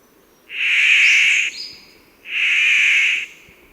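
Song of a bird of paradise recorded in eastern Australia: two long, harsh, rasping calls, each about a second, separated by a short pause, loud and close against quiet background.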